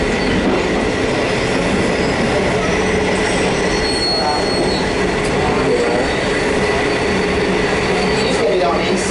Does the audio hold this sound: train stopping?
yes